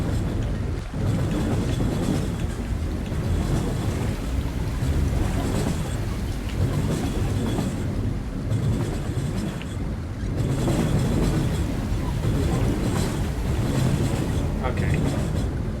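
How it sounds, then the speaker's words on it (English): Rushing water grows more intense in the video game Threshold, a broad, steady roar that holds loud throughout with slight swells, under occasional talk. "The water's definitely getting more intense."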